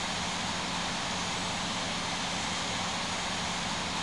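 A Vietnam Airlines Airbus A321 taking off at London Heathrow in Infinite Flight, a steady, unbroken jet engine roar filling the whole stretch at constant loudness.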